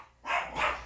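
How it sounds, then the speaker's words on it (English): A single dog gives two quick barks from another room, muffled and moderately loud with a short pause between them, during honey extraction at a beekeeping setup. "excuse my dog barking in the background"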